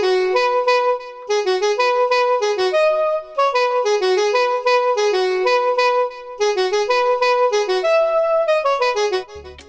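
Synth melody processed through KiloHearts Toolbox plugins, a bright, harmonically rich repeating pattern of stepped notes played steadily and loud, with brief gaps between phrases.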